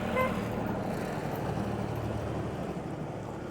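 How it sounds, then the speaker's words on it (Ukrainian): Village traffic rumbles past steadily, vehicle engines droning at moderate distance with a brief horn toot near the start, no talk. "техніка їзде, знайомі сигналять, Толя поїхав, все нормально."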